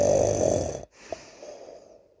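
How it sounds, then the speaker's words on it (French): A loud, deep snore from a sleeping ogre, one long rumbling breath that cuts off abruptly, followed by a quiet snort and faint breathing. "Soudain, ils entendent un gros ronflement."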